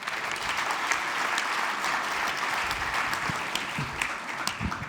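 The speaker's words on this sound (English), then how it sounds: "Big round of applause, ladies and gentlemen" Audience applause at an agency industry conference in Sydney as guests walk onto the stage, a steady, dense wash of clapping from a large crowd lasting throughout without any talk.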